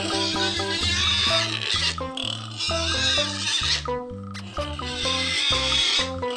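A pen of pigs squealing and grunting loudly and continuously, eager for their commercial feed, with overlapping harsh cries close by and no break in the din.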